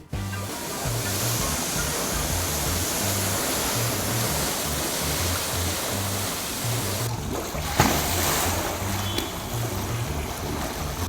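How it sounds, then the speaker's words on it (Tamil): Temple elephant at Tiruchendur bathing in a pool in summer heat, spraying water with its trunk; a steady, loud rush of splashing and flowing water runs throughout, with a brief sharper splash near the end. "தன் தும்பிக்கையால் தண்ணீரை பீச்சி அடித்து உடலை குளிர்வித்துக் கொண்டதுடன் நீரில் விளையாடியும் மகிழ்ந்தது."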